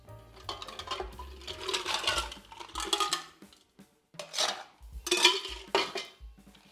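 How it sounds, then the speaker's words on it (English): Ice cubes tumble into a metal cocktail shaker for a tequila espresso martini, a run of close, bright clattering and rattling in several bursts with short pauses. "Let's add some ice."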